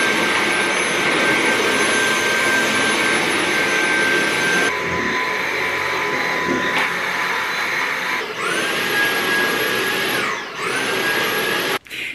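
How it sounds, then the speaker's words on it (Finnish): A vacuum cleaner sucking up sawdust and debris indoors, a loud steady whine and roar throughout, with pitch dips and rises as the nozzle is moved or briefly blocked. "niin jos mä vähän imuroin"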